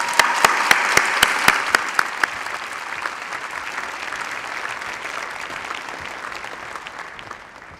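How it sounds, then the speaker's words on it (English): A graduation ceremony audience claps steadily in a large hall, opening with a few sharp individual claps before dense, sustained applause that gradually fades toward the end. "Please join me in a round of applause to all of them."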